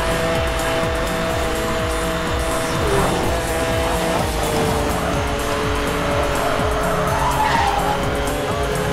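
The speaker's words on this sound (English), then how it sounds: "I'm putting some nitrous. I want to go really fast, hit the top speed" Race car speeding with nitrous in the Need for Speed video game, loud continuous engine roar with tire squeal and skidding, steady and close throughout.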